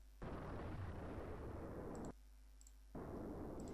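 Synthetic green-screen explosion effect: a loud, broad roaring blast runs for about two seconds, cuts off sharply, then a second burst starts after a short quiet gap, with faint clicks in between.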